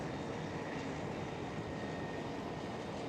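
An Airbus A330 airliner on the Kaagbaan runway at Schiphol produces a faint, continuous distant roar that holds steady for a few seconds, with no voices.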